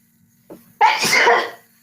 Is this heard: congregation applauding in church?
no